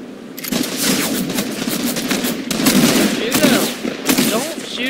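Shotgun fire in the Fortnite video game rings out as rapid, repeated gunshot bursts that overlap into a ragged volley over about five seconds.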